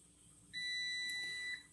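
A Carey DPC-9SS electric pressure canner's timer sounds when done, giving one steady electronic beep of about a second, clear but modest in level against a quiet room.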